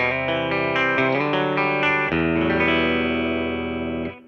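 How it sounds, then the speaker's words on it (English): Electric guitar played through a Catalinbread Mini Epoch Boost preamp pedal with the boost switched off, a sequence of rich, slightly driven chords and notes ringing out loudly before fading at the end. "Let's go hear what that sounds like with the boost off. Guitar and amplifier."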